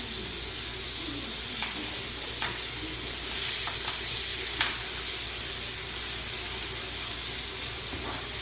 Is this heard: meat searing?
yes